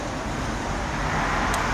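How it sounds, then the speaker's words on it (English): Highway traffic on Route 130 gives a constant, dense roar of passing cars and vehicles. The wash is loud and even, with no voices over it. "you can watch the highway out here on Route 130"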